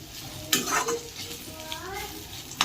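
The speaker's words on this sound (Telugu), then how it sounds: "కొద్దిసేపు మగ్గనిద్దాం. ఒకసారి కలుపుకొని" Bitter gourd fry, salted and cooking in a pan, is stirred with a spatula that scrapes a few strokes over a steady sizzle, ending with a sharp knock against the pan.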